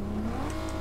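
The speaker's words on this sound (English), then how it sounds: "there goes our car." A car driving off in Fortnite, a short burst of engine revving with a rising tone over a steady low drone, no voices.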